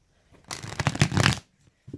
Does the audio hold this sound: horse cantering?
no